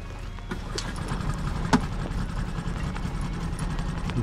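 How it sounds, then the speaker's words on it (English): A boat engine idles as it warms up on Clywedog Reservoir in Wales before a fly-fishing trip, a steady low rumble throughout with a faint clack or two on top. "Let them warm up the engine first."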